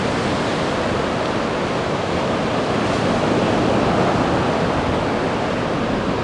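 Ocean surf at Anglet rolls in as a continuous broadband roar of breaking waves, steady and moderately loud with wind noise mixed in and no voices.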